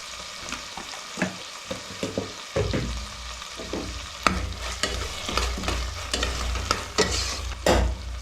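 Ginger garlic paste frying and being stirred in a pan for Uttara Karnataka style mandakki usli, with steady sizzling and repeated scraping, clattering stirs up close, no voices.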